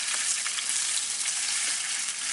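Macaroni frying in vegetable oil in a pan, a steady close crackling sizzle that runs without a break and with no talking.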